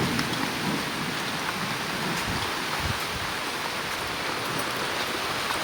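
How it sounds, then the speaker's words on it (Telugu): Heavy downpour pours steadily in a village during a rainy day, a dense continuous roar of rain on surfaces with no voices, holding at an even loudness throughout. "వాన పోస్తుందండి కుండ పోత పోసినట్టు పోస్తుంది"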